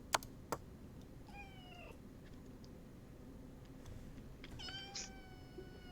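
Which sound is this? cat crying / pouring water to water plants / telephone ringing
cat crying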